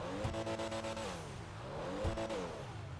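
A Pfister Comet S2 engine in GTA Online revs up and down twice in close succession. The sound is loud and near, with a rising and falling engine tone over a steady rumble.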